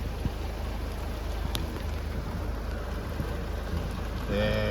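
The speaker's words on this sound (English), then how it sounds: "We stood here in rain." Steady outdoor rain hiss falls throughout, a constant broadband wash with occasional faint knocks, and a low engine-like hum joins near the end.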